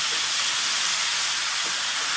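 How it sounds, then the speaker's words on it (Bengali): Eggplant pieces sizzling in hot oil in a wok, a bright steady hiss that stays loud and unbroken from start to finish with no voices. "সব বেগুনগুলো কড়াইতে দিয়ে দিলাম। এবার একটু নেড়ে চেড়ে দেবো।"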